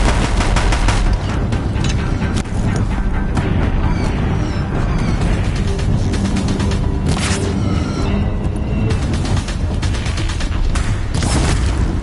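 Deathbringer war machines in Horizon Zero Dawn fire heavy guns in a dense, continuous barrage of rapid shots and booms, loud and close, with no talking over it.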